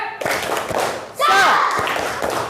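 Rhythmic spirit clap from a classroom of students, a short series of evenly spaced hand claps mixed with loud group voices chanting along.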